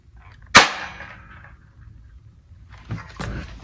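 A Mac 10 BB gun firing, one sharp loud crack followed by a short rattling decay, then a softer double click of the gun being handled a few seconds later, no talking.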